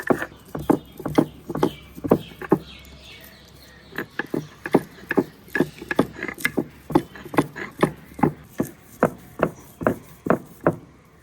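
Garlic and chillies ground dry without water, likely on a grinding stone, as a long run of steady rhythmic knocks and scrapes, close and fairly loud, with a short pause partway through.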